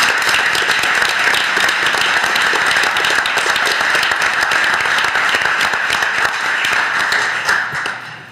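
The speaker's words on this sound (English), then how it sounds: "Let's give them a round of applause." Sustained, dense applause fills a city council meeting chamber, a steady wash of many hands clapping at close range that tapers off slightly at the very end.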